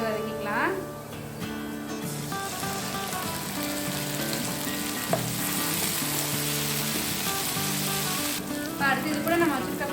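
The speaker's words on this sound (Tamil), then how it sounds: "அடுத்து இதோட நம்ம வச்சுட்டு தக்காளியை சேர்த்து வதக்கிக்கலாம்." Onions and tomatoes sautéing in a pan over a medium flame, a steady close sizzle and crackle with occasional stirring scrapes running under continuous background music.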